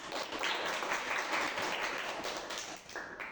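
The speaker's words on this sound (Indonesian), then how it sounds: "Berikan aplaus kepada Anita." Classroom full of pupils applauding together, a dense patter of many hands clapping at once, fairly faint, swelling then tapering off over a few seconds.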